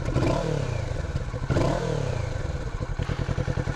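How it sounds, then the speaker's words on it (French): Kawasaki Z650 motorcycle exhaust recorded up close, a loud, raspy burble with blips of revving that settle into a steady, pulsing idle thump. "je vais vous refaire écouter le pot, mais de plus près"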